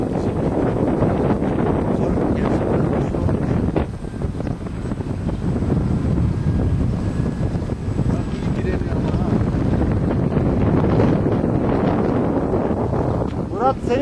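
Strong wind buffets the microphone at an airfield where a Cessna 182 waits, a loud continuous rumbling roar lasting throughout, with people talking beneath it.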